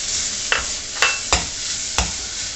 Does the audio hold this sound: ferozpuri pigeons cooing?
no